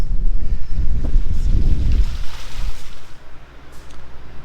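Gusty outdoor wind buffets the microphone in a workshop setting, with loud rumbling bursts for a couple of seconds that ease into a quieter, steadier rush.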